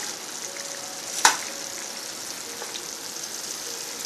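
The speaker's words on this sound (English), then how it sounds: "I put it in the pan. I let it cook once I flatten it." Ground meat fries in a pan with a steady, even sizzle, broken by one sharp clink of a utensil against the pan and a few faint tones.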